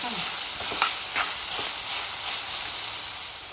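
Shallots and ginger paste sauté in a pan for a chicken curry, giving a steady loud sizzle and hiss close by, with a few faint stirring scrapes.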